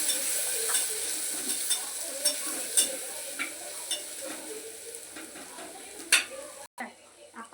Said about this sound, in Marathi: आता आपण टाकूया मसाले.